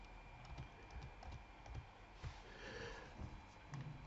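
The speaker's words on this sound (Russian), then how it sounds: "Так, пишем Вася" A computer keyboard being typed on: soft, irregular key taps spread across a few seconds, quiet against a low background hum, with occasional faint breathing sounds and no speech.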